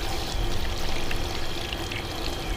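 Water sprays and pours steadily into the cylinder bores of a Ford 302 5.0 engine block during cleaning, a constant close rushing wash with no pauses and no speech.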